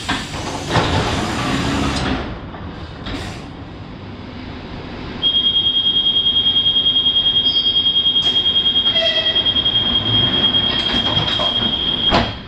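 An EP2DM electric suburban train runs as heard from inside a passenger car: a steady rumble of wheels and motors, then a sustained high whine that carries on for several seconds, with no talking.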